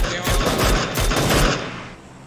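Rapid bursts of gunfire from the battle royale video game PUBG Lite, loud and close, several quick volleys stacked together before trailing off.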